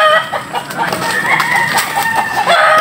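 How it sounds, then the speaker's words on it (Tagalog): A rooster crows loudly and close by, one long strained call over a busy, noisy crowd backdrop at a cockfight. "Ayun na, kumanok na."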